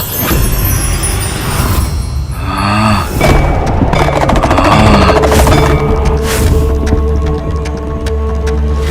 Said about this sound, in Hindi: ये कैसा विस्फोट था?